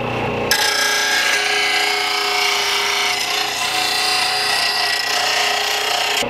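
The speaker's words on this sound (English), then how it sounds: "All right guys, let's sharpen some blades and clean them all up." An Oregon blade grinder sharpens lawn mower blades, starting abruptly into a loud, continuous abrasive grinding rasp that holds steady and close until it cuts off at the end.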